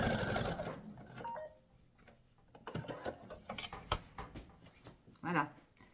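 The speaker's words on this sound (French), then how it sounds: "et on va à nouveau coudre à 1 cm." Sewing machine stitching a fabric seam at 1 cm during an angled inlay sewing lesson, a brief rapid mechanical whir at the start followed by clicks and handling sounds, with a voice speaking softly at times.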